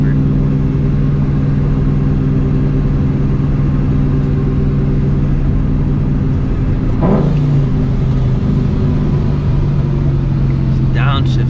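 A Ford Mustang GT engine is heard from inside the car. A deep, steady drone holds throughout, with a couple of brief rising rev blips from downshifts, while someone talks over it at times.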